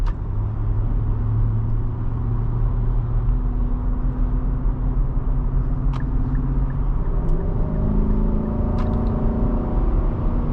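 A 2023 Infiniti QX80 on the road, its engine a steady low rumble with faint tire and road noise, pitch easing as the automatic gearbox shifts, with no talking.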